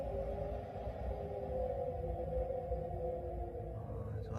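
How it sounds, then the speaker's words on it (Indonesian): A synthetic wind effect plays from the Hyptec HT car's rest mode, a low, steady rushing rumble with a faint hollow tone, quiet and continuous without any voices. "Lalu suara angin."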